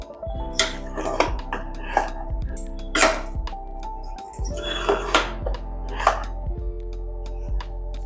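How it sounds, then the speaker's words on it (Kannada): Metal spoon scraping and clinking against a pressure cooker while pudina rice is served into a bowl, with repeated sharp clinks and taps in an uneven rhythm, close and fairly loud. "ಇದನ್ನ ಒಂದು ಬೌಲಿಗೆ ಸರ್ವ್ ಮಾಡ್ಕೊಳ್ಳೋಣ."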